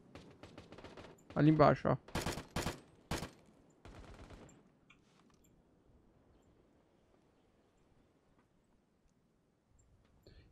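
Gunfire in an online first-person shooter, with rapid bursts of loud shots in the first few seconds, followed by quieter scattered pops and near silence. A voice speaks briefly during the shooting.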